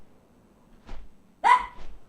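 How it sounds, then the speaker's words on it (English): A pet dog named Bailey gives a couple of short, sharp barks close by indoors, after a faint earlier yelp, with a quiet room otherwise. "What are you being barking at, Bailey?"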